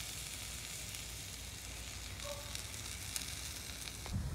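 BBQ spare ribs sizzle quietly and steadily on a grill just after being flipped, a soft continuous crackle heard from close by with no talk.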